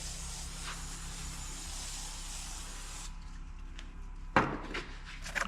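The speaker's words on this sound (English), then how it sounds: "So just use a can of brake clean." Brake cleaner sprayed from an aerosol can during steering clutch work on an International 500C dozer, a continuous loud hiss for about three seconds that cuts off abruptly, followed by a few clunks and knocks of parts being handled.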